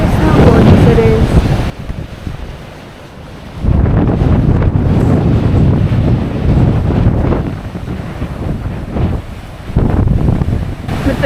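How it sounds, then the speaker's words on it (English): Strong wind gusting across lake water at Torres del Paine in Patagonia, roaring loudly into the microphone in heavy buffeting bursts with splashing water beneath, dropping briefly before surging back. "See how strong the wind is and blowing the water."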